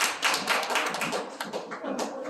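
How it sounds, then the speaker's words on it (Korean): A room of young people at a youth worship service claps together, a brisk, dense run of hand claps with some sharper taps standing out, close and fairly loud. "박수 한번 주세요."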